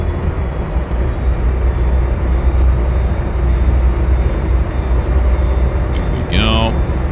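A locomotive in the Trainz 2022 rail simulator moves along the track, giving a loud, steady mechanical rumble with a brief rising whistle-like tone near the end.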